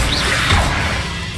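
The Incendio fire spell cast in Hogwarts Legacy, a loud roaring whoosh of flame with a forceful burst that stays dense and steady, with no talk.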